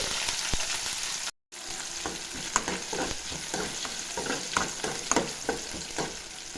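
Curry leaves and onions fry in a pan for a curry, a steady close sizzle broken by repeated scraping stirs, with one brief dropout partway through.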